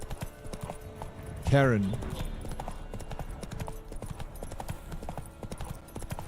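Roach, the horse in The Witcher 3, gallops with steady clip-clop hoofbeats running underneath, while a loud voice cries out briefly near the start and other talk sits on top.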